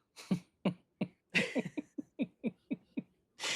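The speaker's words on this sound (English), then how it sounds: "the only symptom I have is this goddamn cough" A person coughs in a quick series of about a dozen sharp, close bursts with short gaps between them, slightly whiny in tone, and no talk over them.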